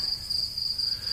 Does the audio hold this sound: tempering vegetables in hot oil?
no